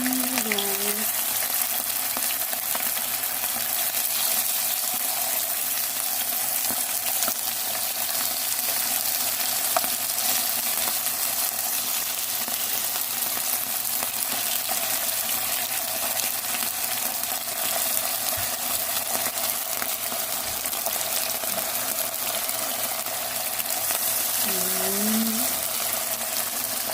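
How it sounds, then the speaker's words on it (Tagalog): Continuous loud sizzling of beef frying in hot oil, a steady crackle with no talking. "I-prito lang natin. I-prito muna natin."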